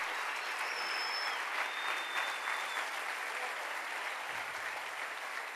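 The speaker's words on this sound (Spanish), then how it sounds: "Dale ese aplauso fuerte al Rey" A church congregation gives steady, loud applause through the whole stretch, a dense even wash of many hands clapping without pause.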